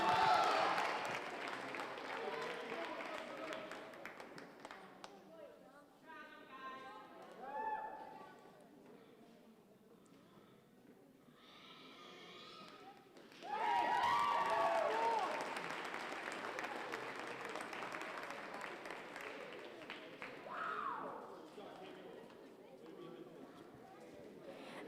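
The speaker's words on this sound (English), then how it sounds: "Give them a big round of applause again." An audience at a youth fair market hog showmanship event claps in several bursts of applause, swelling loudly partway through, with an announcer's voice and crowd chatter in between.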